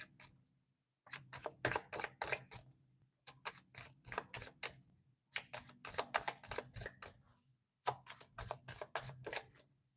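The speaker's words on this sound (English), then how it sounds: "Let's do a quick little shuffle here." Tarot cards being shuffled in four quick bursts of rapid riffling, close and crisp, separated by short pauses, with a low hum beneath.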